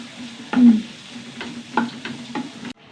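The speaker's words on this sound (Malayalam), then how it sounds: "തക്കാളി നല്ലോണം ഉടയണ്ട ചെറുതായി ഒന്ന് വഴണ്ട് വന്നാൽ മതി" Tomatoes softening in a hot pan while being stirred, with a steady low sizzle and several distinct scraping stir strokes spaced about half a second apart, close and fairly loud, no talking.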